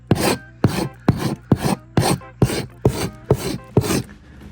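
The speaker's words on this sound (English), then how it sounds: "that's the first round of scraping" Rotten wood being scraped by hand in about nine rhythmic, evenly spaced rasping strokes, loud and close with no talking.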